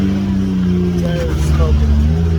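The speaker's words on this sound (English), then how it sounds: "Budget off-road burnout." An off-road vehicle on Maxxis tires does a brief burnout on a wet, rainy mountain trail, a steady low engine drone with rising revs heard close, with voices talking over it.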